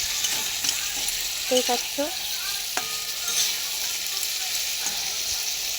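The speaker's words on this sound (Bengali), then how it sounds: "এবার ভেজে আমি এখানে পুরো মশলাটাকে দিয়ে আলু পেঁয়াজ কালিটা কষে নিয়েছি একদম।" Potatoes and onions sauté with spices in a pan, a continuous sizzle broken by scraping stirs, with a few brief spoken words and light clatter in the middle.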